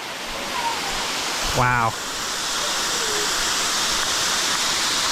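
Waterfall heard up close from behind the falling water, a loud, steady roar of rushing water filling the whole scene, broken briefly by one short spoken exclamation.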